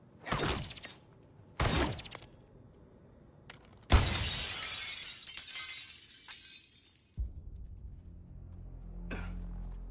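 Glass shatters loudly and repeatedly in the Suicide Squad video game, with two quick crashes followed by a long, heavy burst of breaking and tinkling shards that fades into a low rumble.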